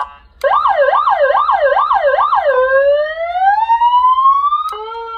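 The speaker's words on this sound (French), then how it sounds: "Et les petites sirènes." Siren on an anti-zombie pickup truck, loud and close, cycling through a rapid wailing yelp several times, then switching to a long slow rising tone that cuts off abruptly.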